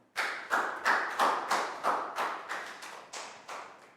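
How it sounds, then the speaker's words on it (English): A classroom of young pupils claps for a classmate in a short burst of about ten separate, evenly spaced claps that sound like one group clapping together, fairly close and with no talking. "Big round of applause for Net."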